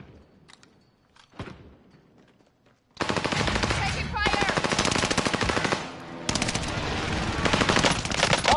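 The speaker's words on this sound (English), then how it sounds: "Taking fire!" Sustained machine gun fire in a video game, loud and continuous from about three seconds on after a quieter stretch, with a brief dip midway before the rapid bursts resume.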